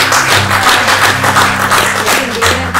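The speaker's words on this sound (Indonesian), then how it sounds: "Tepuk tangan dulu dong." Dense, close clapping from an audience during a relaxed talk show chat, continuous and lively for a few seconds with a faint low hum beneath it.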